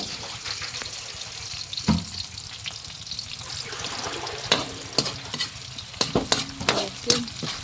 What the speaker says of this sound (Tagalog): Lagyan din mga pangit yung sibuyas, bawang. Gisa natin sa ano, sa munggo.